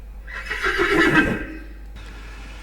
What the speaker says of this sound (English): The steeds in their stalls stamp and neigh.